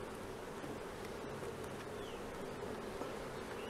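A dense, steady buzz of many honeybees fills the air as brood frames are lifted one at a time into a new hive during tropical queen breeding, continuous and close with no breaks.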